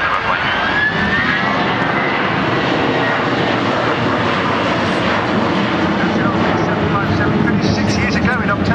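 An RNZAF Boeing 757-200 jet making a 360-degree orbit during an air show flying display, a loud, continuous jet engine roar with shifting tone, with a commentator talking over it throughout.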